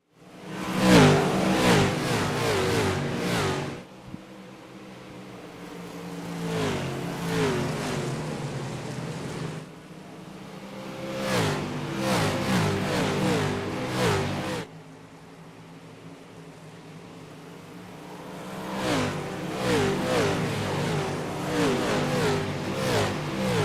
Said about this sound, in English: So we will let you listen to the cars and various camera views on the track.